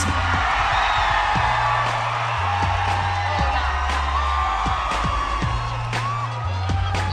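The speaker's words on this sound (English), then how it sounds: "Make some noise for Philippines!" A live pageant audience in a large hall cheers and whoops for the Philippines contestant at the Miss Universe 2010 preliminary competition, a steady, loud crowd roar with a low musical bed running under it throughout.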